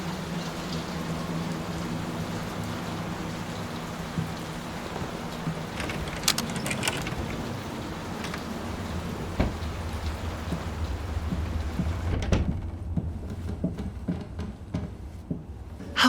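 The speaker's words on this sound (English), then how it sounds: "Will this storm ever run out of rain?" Steady rain and storm ambience in the 2023 horror video game Layers of Fear, a continuous wash of rainfall with a few sharp cracks around the middle before the downpour thins and drops out near the end.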